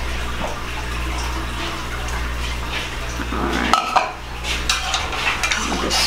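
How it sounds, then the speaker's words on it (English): A whisk scrapes and clinks steadily in a metal pan of gravy on the stove, a close, continuous stirring sound over a low background hum. "Stir it around."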